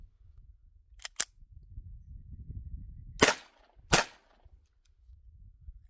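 A Ruger Mark IV 22/45 pistol firing old, weak .22 rounds: two faint early pops followed by two louder sharp cracks about a second apart, with a quiet background between shots.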